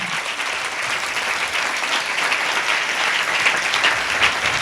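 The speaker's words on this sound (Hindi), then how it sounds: "हालेलुया, ताली बजाएंगे" Loud, steady applause fills a church service, dense clapping from a congregation sustained without a break for several seconds.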